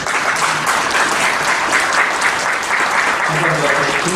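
Loud, dense applause from a large audience at a New Year gathering in Korea, honoring a speaker, a continuous roar of clapping that holds steady throughout with faint murmurs beneath.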